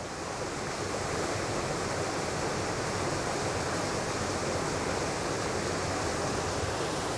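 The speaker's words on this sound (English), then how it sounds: "This little waterfall is very close to my home." A small waterfall of moving water close by, a steady, dense rush of falling and splashing water that holds constant and loud throughout, with no voices.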